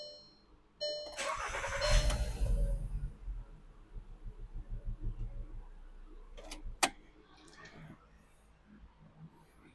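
A Volkswagen engine cranks and starts, then idles with a low rumble; a couple of sharp clicks stand out partway through.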